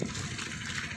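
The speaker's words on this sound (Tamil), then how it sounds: "இதுதான் தண்ணி விட்ருக்காங்க டேங்க்லேருந்து ஒவ்வொரு கண்ணுக்காக விட்றாங்க" Irrigation water released from a tank rushes steadily in a broad, continuous gush onto crop beds, close and fairly loud, with no voices over it.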